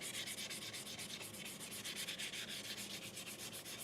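Wet sanding of painted War Machine suit parts, heard up close as a steady, rhythmic back-and-forth rubbing that runs continuously with no voices.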